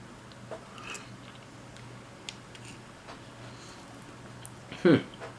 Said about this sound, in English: let's take another few bites here, see what we think